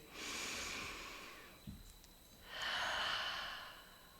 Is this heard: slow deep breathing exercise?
yes